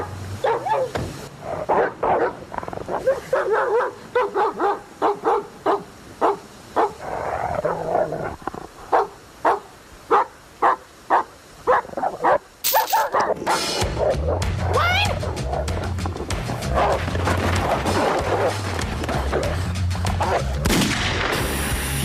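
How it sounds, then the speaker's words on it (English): A chained dog barks loudly and repeatedly in sharp, evenly spaced bursts, then a louder rumbling noise with a clatter takes over in the second half. "When we got there, the dog started barking."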